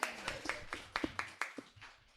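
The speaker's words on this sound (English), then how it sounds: "Give yourselves a round of applause" Sparse, quiet hand claps from a small audience at a personal branding event, a dozen or so uneven slaps over a couple of seconds, fading toward the end.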